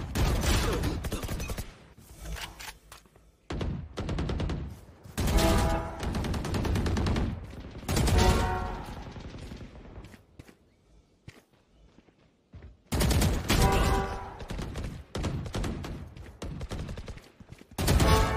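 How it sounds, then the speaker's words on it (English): Rapid gunfire bursts from a Valorant deathmatch, loud and repeated in several volleys with short gaps of quieter footsteps and mechanical clicks between them. "Everyone else says that my gun sounds different."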